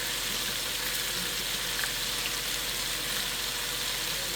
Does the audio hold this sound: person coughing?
no